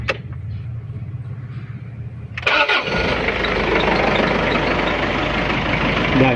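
An old 2.5-litre diesel engine, run after an overnight degreaser soak, cranks for a couple of seconds and then catches, settling into a loud, steady, close-up diesel clatter.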